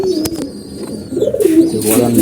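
Young pigeons cooing close by in a loft, a low throaty warble that rises and swells toward the end, with a few soft chirps and rustles.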